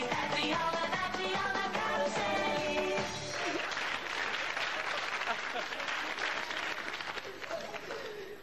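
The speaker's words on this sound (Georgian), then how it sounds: "რომელთაც თქვენ დიდი აპლოდისმენტებით უნდა შეეგოთ." A studio audience at a TV show applauds. Dense clapping swells after a few tonal sounds at the start, then holds steady and slowly fades.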